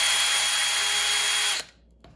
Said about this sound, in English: the drill can go right through this